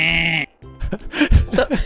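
A person imitates a sheep-like bleat, "meh," as a joke attempt at a cow's moo, one sustained nasal call at close range, cut off and followed by chatter and laughter.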